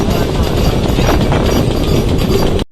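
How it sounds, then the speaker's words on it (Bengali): A passenger train rolls into Gourinath Dham station on the Jhalda–Purulia route, heard loud and close from onboard as a dense rumble with rhythmic clickety-clack of the wheels, cutting off abruptly. "গৌরীনাথ ধাম ঢুকে গিয়েছে ট্রেন"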